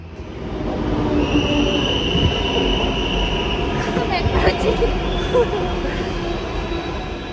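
A long toy train rolls past at a busy exhibition fairground, a continuous rumble of wheels with faint metallic squeals over a dense crowd hubbub and nearby talk.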